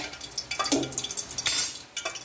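Crispy snacks fry in oil over a medium gas flame, with a steady sizzle broken by scraping stirs and light clinks of a utensil against the pan, close and fairly quiet, without any talk.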